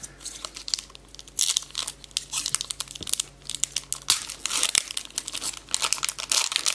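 Pokémon HeartGold booster packs are torn open by hand, with close, continuous foil crinkling and tearing in rapid irregular bursts throughout, fairly quiet, with no voices.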